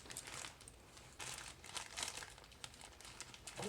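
Packaging crinkles and crackles as scissors cut open a fabric parcel, a steady close rustle with bursts of louder crunching throughout, no talking.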